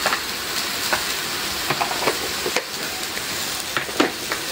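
Chicken frying with turmeric in a pan, stirred with steady sizzling hiss and occasional scraping knocks of the spoon against the pan, close and continuous with no talk.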